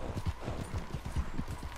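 A horse's hooves clip-clop in Red Dead Redemption 2, a quick, even trot of close, thudding steps repeating steadily throughout with no other sounds.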